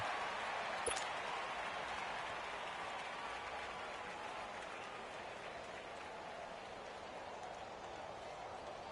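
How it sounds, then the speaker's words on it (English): Home crowd applauding in a football video game on PS4, a faint, steady wash of distant clapping and crowd noise, continuous throughout with no clear voices. "And the home crowd applauding."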